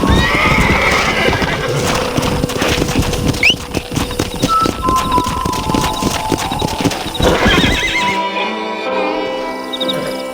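Hooves clip-clop busily up close while a horse lets out a whinny in the video game Red Dead Redemption, then the trotting fades to quieter ambient sounds near the end.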